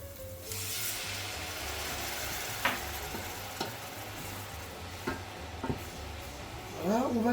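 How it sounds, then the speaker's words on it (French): Madeira wine hits shallots frying in a pan, giving a steady close sizzle with a few sharp ticks and stirring clicks and a brief surge of hissing near the end, with no talking. "Je vais ajouter le madère."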